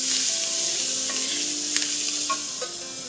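Vegetables fry in a casserole dish used for lamb navarin, a bright steady sizzle with faint scraping as they are stirred, up close and without speech.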